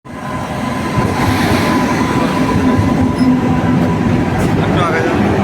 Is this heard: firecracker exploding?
no